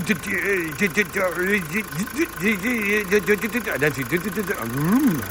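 A Mazda 2.2d Skyactiv turbo diesel engine, just fitted with a replacement turbo, runs with a steady throb beneath someone talking loudly over it.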